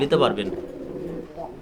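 Shoukhin pigeons coo softly in a cage at a pigeon farm, low throaty murmuring rising briefly under someone speaking close by.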